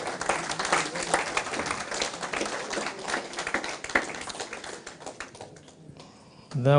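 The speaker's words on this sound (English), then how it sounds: "could we give him another round of applause?" Sustained applause from a conference audience at an economic outlook event, dense and steady for about six seconds before tapering off, with a voice speaking near the end.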